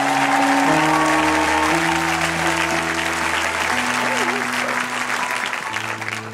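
A church congregation applauds in sustained, even clapping that fills the room, with steady musical tones playing beneath it and no speech.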